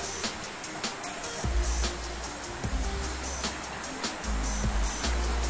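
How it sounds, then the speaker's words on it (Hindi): Doodh Dhara waterfall at Amarkantak, a broad continuous roar of falling water heard up close, with bursts of low wind buffeting and rumble recurring over it, no talking. "जैसे कि ये झरना गिर रहा है नीचे से, ये दूध धारा हो जाता है।"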